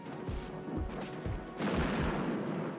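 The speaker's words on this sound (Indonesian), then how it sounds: "tembakan mortir menghancurkan seluruh area gudang" Low, dull booms thud repeatedly in the distance as mortar rounds hit a warehouse area, followed by a rumbling wash of blast noise.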